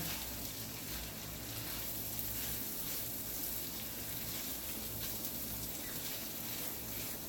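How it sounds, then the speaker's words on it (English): A pot of tomato, bacon, grease and onions simmers gently over low heat. A steady, soft sizzle and bubble carries on without a break, close but fairly quiet. "kind of let the tomato and the bacon and the grease and the onions, we're going to let everything marry together and simmer"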